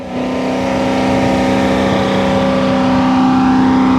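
Corvette C8 Z06 with an AWE exhaust in sport mode, revved hard, a loud, close, sustained engine roar with a steady whining tone that climbs slightly over four seconds.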